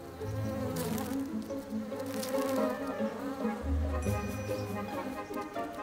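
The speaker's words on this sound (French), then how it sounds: "Les abeilles vont et viennent, toujours occupées." Bees buzz steadily around a hive in the Luangwa Valley during a drought, a dense droning hum that rises and falls as individual insects pass close by.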